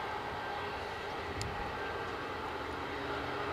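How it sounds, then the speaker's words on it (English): An inbound EasyJet Airbus A320neo from Prague approaches Edinburgh airport, its jet engines a steady, broad roar that holds evenly throughout without voices. "inbound is an EasyJet from Prague, an A320 Neo."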